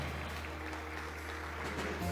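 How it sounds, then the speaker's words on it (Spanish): A church congregation applauds together in a steady, dense wash of clapping that fills the room for about two seconds, with a low hum running underneath. "Vamos a darle un fuerte aplauso a Jesús."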